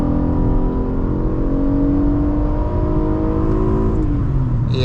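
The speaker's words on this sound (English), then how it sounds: "we're just gonna close this out with a little pull." A 2019 Acura TLX A-Spec pulls hard from inside the cabin, its engine note rising steadily in pitch as the car accelerates, loud and continuous, then easing slightly near the end.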